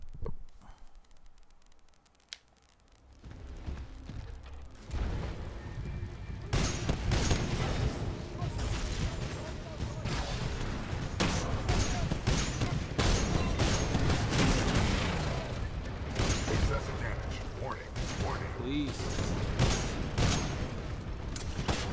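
A Titan in Titanfall 2 launches tracker rockets, and explosions follow in a loud, sustained barrage of blasts and crashes after a quieter opening few seconds.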